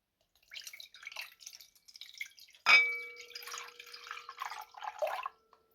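Water from a tap running and splashing into a cooking pot in a kitchen, filled with 300 ml for barley porridge: an intermittent patter of splashes with one sharp metallic clang midway, nearby and fairly faint.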